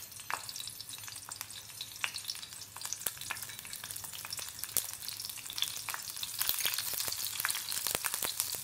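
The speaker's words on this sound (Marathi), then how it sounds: "लसूण छान परतून घेऊया." Crushed garlic frying over a low flame for palebhaji, a steady soft sizzle dotted with quick crackles and pops from the pan, with no voices.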